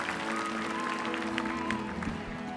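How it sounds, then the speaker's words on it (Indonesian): Studio audience on an Indonesian TV comedy show claps in a steady, dense burst of applause, fairly loud and continuous, with some background voices and music under it. "Tepuk tangan"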